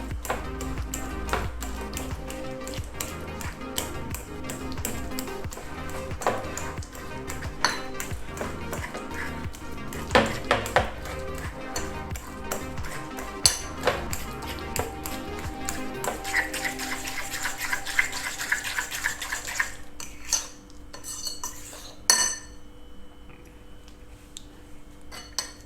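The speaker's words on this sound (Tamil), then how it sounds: "இது ஓரளவு இந்த ஃபோர்க்கை வச்சு நல்லா மசிச்சு" A fork mashes banana with sugar in a bowl, giving steady clinks and scrapes of metal on the dish that repeat at close range, easing off into sparse taps near the end.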